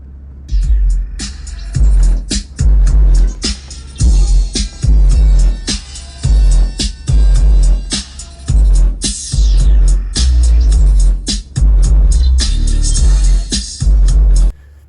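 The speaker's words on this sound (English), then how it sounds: "it's actually just the truck itself rattling" Deep subwoofer bass pulses thump in a steady rhythm while a truck's body buzzes and rattles along with each hit, loud and close.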